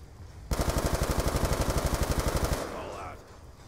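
Rapid automatic gunfire from a weapon in Black Ops 2's Origins zombies map, a loud, evenly spaced burst of about two seconds that stops abruptly and is followed by a quieter tail.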